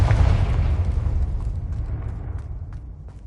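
A Confringo blasting curse detonates in the Hogwarts Legacy video game, a loud, close explosion with a heavy low boom that rumbles and slowly decays over a few seconds, with no voices.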